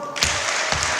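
A crowd at a Kenyan political rally breaks into applause, a short burst of dense, fairly close clapping that holds steady for about a second.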